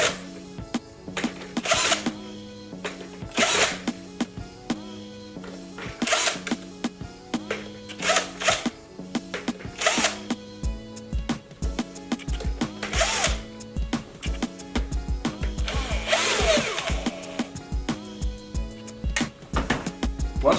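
A power screwdriver backs screws out of the casing of a Pioneer DDJ-SX2 DJ controller, giving repeated short whirring bursts with brief pauses between them. The tool sounds close and fairly loud, with no talking.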